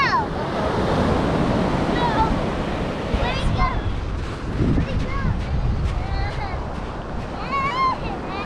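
Ocean waves break and wash steadily onto a sandy New Jersey beach, a continuous close surf roar with wind buffeting the microphone, while voices of adults and children talk nearby.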